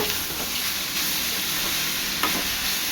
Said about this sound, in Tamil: பீட்ரூட் போட்டுட்டு நல்லா கலந்து விட்டுக்கலாம்